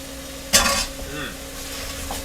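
Risotto alla Milanese stirred in a pan with a soft ongoing sizzle, a brief louder scrape of the spoon near the start, then steady low stirring noise and a faint hum.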